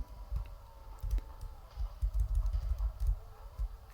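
Laptop keyboard keys clack in quick, irregular bursts of taps and presses during play of a retro game on an $80 Linux laptop, close and fairly soft, with no one talking.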